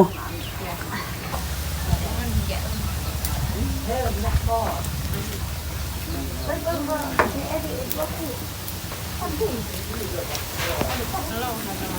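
Pork boils in a pot with a continuous bubbling, sizzling simmer close by, along with occasional stirring clinks. People talk over it throughout.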